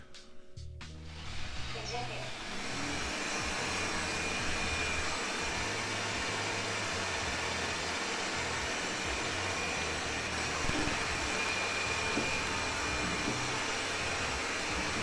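Proscenic Floobot X1 robot vacuum cleaner running on a tabletop, a steady loud whirring drone that starts up after a brief rustle and holds constant throughout.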